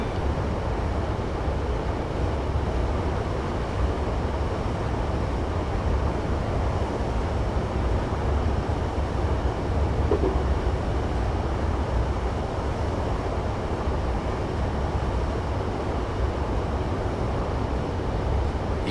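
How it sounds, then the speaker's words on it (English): A Class 150 diesel multiple unit coasts with its power idled on the Exeter to Barnstaple line in Train Simulator 2015, giving a steady, even rumble and wheel drone that stays level and unbroken throughout. "I'm going to idle the power and allow the train to coast until we need to slow down for the 20 mile per hour speed limit"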